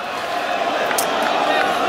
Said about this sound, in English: Crowd shouting no ball, of course